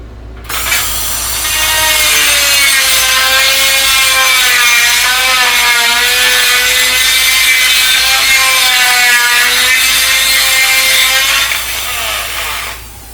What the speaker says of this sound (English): Now it's time for the evil die grinder.